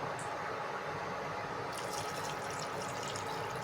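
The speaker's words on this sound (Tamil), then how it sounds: "இப்போ தண்ணி ஊற்றிக்கலாம் ஃப்ரெண்ட்ஸ்" Water pours steadily into a pot of chicken curry with a continuous gushing splash, growing slightly brighter toward the end.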